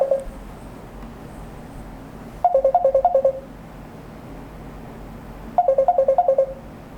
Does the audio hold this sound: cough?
no